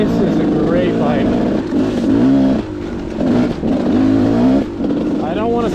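A Gas Gas 300 dirt bike engine revs up and down in loud, repeated surges, the two-stroke pitch rising and falling over several seconds with brief dips between throttle bursts.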